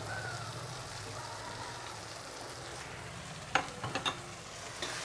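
Amudi fish curry masala with coriander, cumin and chilli powders sautés in a pan with a soft, steady sizzle, then a few sharp scraping clinks of a stirring spoon near the end.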